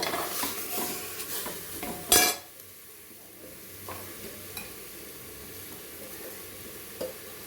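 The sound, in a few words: chicken sautéing in a pan with a little water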